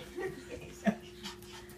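A small Pomsky puppy whimpers and pants briefly, with one short yelp-like peak, over low room noise and faint background voices.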